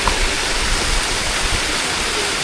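A main jungle river stream rushes steadily, a dense continuous roar of flowing water that stays constant and close throughout, with no voices.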